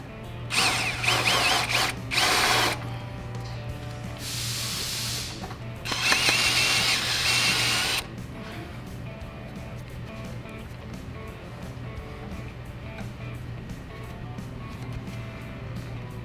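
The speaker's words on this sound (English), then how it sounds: "Now we're gonna go ahead and clean that up with a little chamfer bit" A power drill with a small chamfer bit cleans up a hole in a kickstand drop plate for an M8 Softail, running in three short whirring bursts with brief pauses between, close and fairly loud over a steady background hum.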